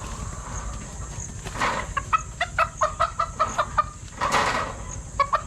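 Gamecock chickens at a game-fowl farm in the rainy season cluck in a quick, rhythmic run of short calls at moderate distance, pausing, then resuming briefly.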